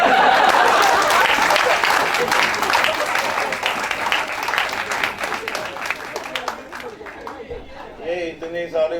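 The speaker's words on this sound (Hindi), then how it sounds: "उनके स्वागत में जोरदार तालियों से स्वागत करें।" An audience at a Hindi poetry gathering breaks into loud, sustained applause to welcome a poet, the dense clapping slowly thinning while voices and light laughter come through.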